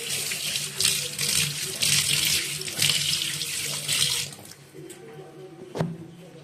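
Tap water runs hard into a kitchen sink while fish and prawns are rinsed under it, a loud splashing rush that eases off partway through, with a clunk near the end.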